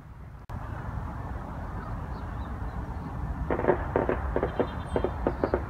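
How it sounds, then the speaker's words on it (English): A series of fireworks pops and bangs in quick irregular bursts at a distance near a cemetery in Colma, near San Francisco, following a sudden sharp crack and steady background noise. "Can you hear those fireworks? They really are loud."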